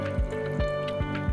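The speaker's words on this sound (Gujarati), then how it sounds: "એમાં અડધો કપ પાણી લઈએ છે." Half a cup of water is poured into a mixing bowl, giving a short run of wet drips and splashes over a faint steady tone.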